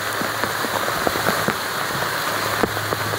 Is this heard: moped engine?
no